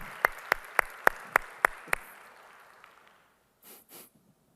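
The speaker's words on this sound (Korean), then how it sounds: "우리의 모든 찬양을 받아주실 주님께 영광의 박수 올려드리겠습니다" A church congregation applauds during a Sunday worship service. About seven sharp, evenly spaced claps land in unison over two seconds, then the sound fades to near silence with a couple of faint breaths.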